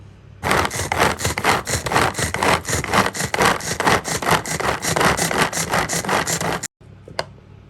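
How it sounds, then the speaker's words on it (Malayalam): Onion chutney with coconut oil being chopped: fast, loud, rhythmic rasping strokes repeat for about six seconds, then stop abruptly, followed by a brief faint knock. "ഇനി നമുക്കിതൊന്ന് ചോപ്പ് ചെയ്തെടുക്കാം"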